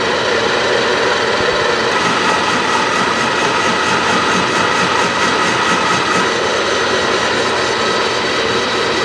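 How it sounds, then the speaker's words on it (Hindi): Lathe running at set speed during a facing cut on a rough workpiece face: a loud, dense, steady machine whine and roar with a continuous high-pitched hiss of cutting, unbroken for the whole stretch. "तो लेथ को चलाया गया है गिवन आरपीएम पे एंड फेसिंग स्टार्ट हो चुकी है"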